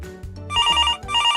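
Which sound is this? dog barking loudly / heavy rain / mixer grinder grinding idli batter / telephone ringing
telephone ringing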